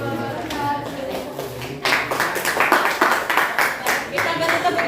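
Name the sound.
applause for group 3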